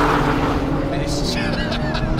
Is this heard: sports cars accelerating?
yes